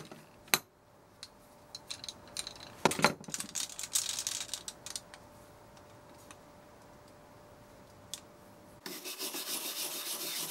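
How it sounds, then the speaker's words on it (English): Surface rust is scrubbed off the metal wheels of a tea trolley in faint, intermittent scraping strokes with scattered light clicks and ticks, ending in a steadier rasping rub. "So first thing to do is clean off that surface rust."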